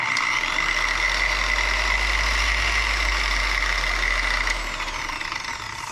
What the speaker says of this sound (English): Random orbital sander.